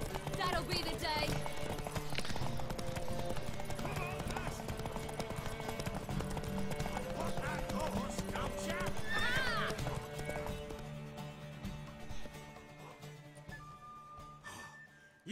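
Horse hooves clip-clop and a horse neighs in the video game The Witcher 3, with loud rhythmic hoofbeats over game music, then quieter sounds near the end.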